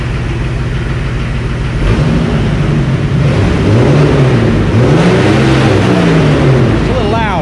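A Jeep TJ engine runs after fuel system work, a steady loud idle that picks up and surges a few times, with a voice talking over it partway through.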